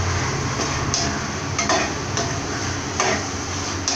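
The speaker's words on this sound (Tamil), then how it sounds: "இது மஞ்சள் தூள், மிளகாய் தூள் போட்டு இந்த மிளகாய் தூள் ராஸ்மெல் போகிற வரைக்கும் நம்ம நல்லா வதக்கணும்" Onions and spices with chilli powder and turmeric sizzle loudly for a mushroom kurma while being sautéed, a dense continuous frying hiss with occasional scrapes and taps of the ladle in the pan.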